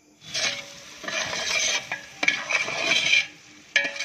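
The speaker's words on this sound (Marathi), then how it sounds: "कांदा जळू नये म्हणून सतत हलवत राहायचं." Onion frying in oil while a spoon stirs it constantly: bursts of sizzling scrapes rise and fall in uneven strokes, with a few sharp metallic clinks against the pan, close and fairly loud with no voices.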